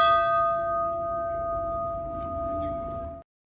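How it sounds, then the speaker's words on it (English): A single bell rings loud and close with a bright, sustained metallic tone that holds steady for about three seconds before cutting off abruptly. "Ring the bell."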